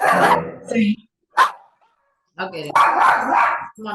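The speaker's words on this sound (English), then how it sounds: "That's the dog, yeah." A dog barks during an online community meeting, a sharp single bark between stretches of close-miked talk, with yelps and whimpery sounds blended into the voices.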